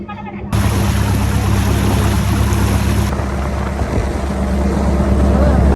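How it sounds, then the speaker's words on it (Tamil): A motorboat runs fast across the water off Eluvaitivu island, Sri Lanka, its loud steady engine drone and rushing water and wind noise filling the whole stretch. "படகு வந்து கொஞ்சம் வேகமாக தான் போகுது"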